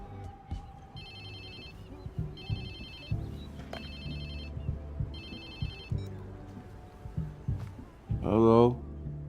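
A phone ringtone in the video game Watch Dogs 2 repeats in three or four short electronic bursts over low rumbling game sound. It stops before a voice speaks near the end.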